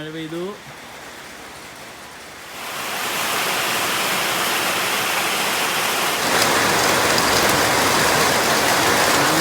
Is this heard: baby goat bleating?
no